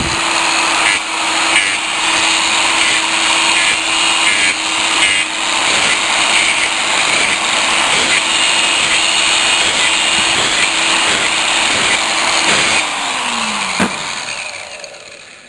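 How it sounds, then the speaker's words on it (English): A power tool sands and polishes burrs off a copper pump pipe before soldering, its motor whining steadily and loudly at close range, with the pitch dropping briefly near the end. "I'm going to polish those burrs off and then sand it a bit and get it nice and shiny."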